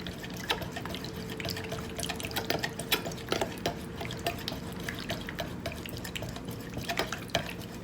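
Room spray liquid is mixed before bottling, with soft continuous sloshing, drips and small clinks of a container, close and fairly quiet, with no talk.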